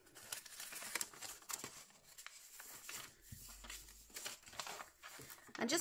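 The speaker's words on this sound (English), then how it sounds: "And just fold it in half again." Paper crinkles and rustles softly while it is folded in half to make a zine, a faint, close handling sound with light scraping and brief crisp creases.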